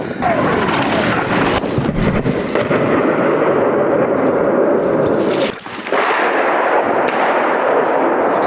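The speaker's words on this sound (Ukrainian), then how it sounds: "Вже другу добу піски обстрілюють нещадно, вибухи лунають щокілька секунд." Heavy artillery shelling near Donetsk airport, a relentless sequence of loud booming explosions and rumbling blasts with a long sustained roar, close and intense, continuing with brief gaps across the whole stretch.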